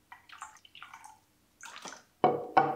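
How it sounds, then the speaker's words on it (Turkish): Water pours into a kettle in short splashing bursts, quiet at first and then louder as the stream hits the vessel, close by with no talking. "Kettle'a dökeyim."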